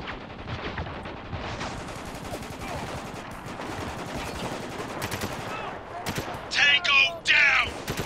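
Rapid bursts of gunfire and machine-gun fire from the video game Spec Ops: The Line, loud and near, with dense overlapping shots and a few sharper blasts near the end, while a player talks over it.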